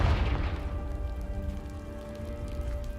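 A Confringo spell blasts a pile of debris in Hogwarts Legacy, a booming explosion at the start that decays into a lingering low rumble and crackling fallout.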